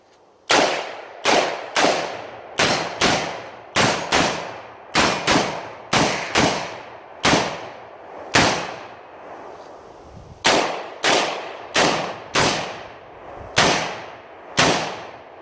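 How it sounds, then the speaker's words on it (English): Kel-Tec RDB rifle shot outdoors, about twenty loud sharp reports in quick pairs and singles with brief gaps, each cracking close by and trailing off in a short echo. "So we'll go ahead and shoot this through."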